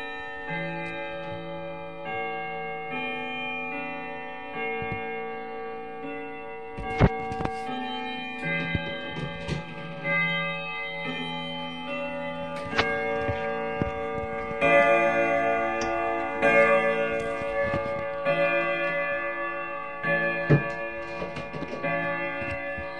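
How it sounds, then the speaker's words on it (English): A clock ticks steadily alongside ringing, bell-like chime tones that layer and swell over about twenty seconds, with occasional sharper knocks. "clock noises sounds very ugly."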